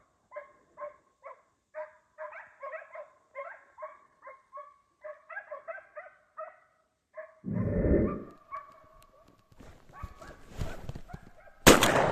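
Hounds on a rabbit hunt in snow, giving a long run of rhythmic distant baying barks, followed by a louder burst that sounds like a gunshot, then scattered noisy commotion near the end.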